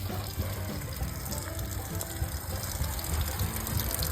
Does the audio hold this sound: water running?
yes